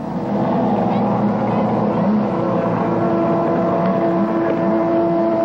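Le Mans-type racing boat engines at the 1986 Dunnville boat races drone loudly and continuously, a steady high-pitched whine with shifting tones and rushing wind noise.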